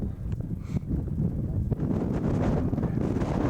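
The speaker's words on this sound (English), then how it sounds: "it's hard to hold still in all this wind" Strong wind buffets the microphone on a mountain hike near Table Rock. It is a loud, continuous gusting roar throughout with no talking.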